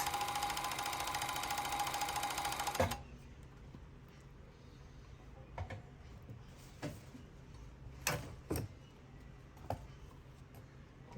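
An industrial overlocker with an elastic shirring presser foot sews and trims elastic, running as a steady loud whir for about three seconds before stopping, followed by scattered sharp clicks and ticks from the machine.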